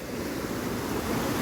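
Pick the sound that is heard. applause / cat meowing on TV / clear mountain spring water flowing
clear mountain spring water flowing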